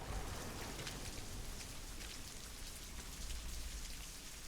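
Steady rain falls on the ruins of Harrenhal in House of the Dragon, a dense, continuous patter of drops, fairly quiet and with no voices.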